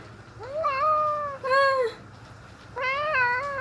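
A cat meows three times, clear drawn-out cries close to the microphone with short pauses between them, over a quiet background.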